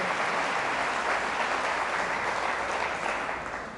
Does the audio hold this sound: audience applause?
yes